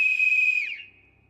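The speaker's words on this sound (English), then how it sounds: "Whistle does make a lot of noise." A loud, sustained shrill whistle blast inside the zombie survival video game Project Zomboid, holding one steady high pitch before dropping away and fading into quiet.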